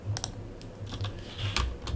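Quick clicks and light taps from a computer mouse and keyboard, close but quiet, scattered irregularly through a soft room hum.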